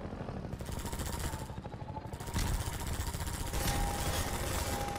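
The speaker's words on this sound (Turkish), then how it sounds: "Evet, helikopter boss fight'ına hoş geldiniz." Helicopter boss fight in the Half-Life 2 video game: a loud, rapid mechanical rotor chatter with rattling gunfire bursts, growing heavier midway and holding steady, with no talk over it.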